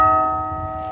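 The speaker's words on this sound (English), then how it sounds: "It's probably Henry for ringing that bell." A bell rings with a steady sustained tone, struck once and decaying slowly, loud and close with no voices over it.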